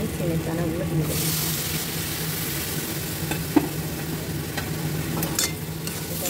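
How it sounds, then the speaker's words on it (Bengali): Bean seeds are stirred into oily, well-cooked masala in a pan: a bright sizzle swells after a moment, with scattered spatula scrapes and knocks over a steady frying hiss. "এটা ভালো করে নেড়ে চেড়ে মিশিয়ে নেব।"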